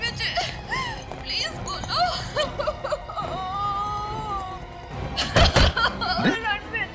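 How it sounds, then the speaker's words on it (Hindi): Someone cries and wails inside a house, breathy sobbing and moaning in uneven bursts, close and fairly loud, with a sharp knock or slam partway through and voices talking nearby. "हाँ सर, ये तो रोने की आवाज है।"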